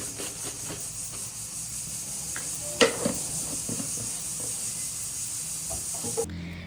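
Fish frying in a pan, a steady close hiss and sizzle with a few sharp clinks and taps of a utensil, no talking.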